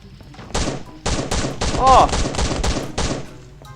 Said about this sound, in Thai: มีคนยิงกันเลย